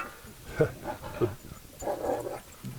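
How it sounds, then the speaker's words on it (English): Dogs playing in a home kitchen, with short growls, pants and yips in quick bursts at moderate distance, alone without talk. "dogs are playing, as you can hear."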